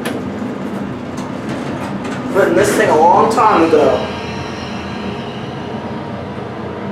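An American Crescent hydraulic elevator motor at the Meadowcrest Center in Gretna, Louisiana, running with a loud, steady mechanical hum and rumble, while someone speaks briefly partway through.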